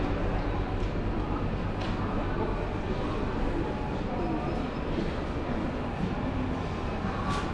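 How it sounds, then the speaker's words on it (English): A train rumbles steadily nearby at a train station in Estonia, a continuous loud roar of rolling wheels with faint clicks and voices in the background. "So there's the train station right there,"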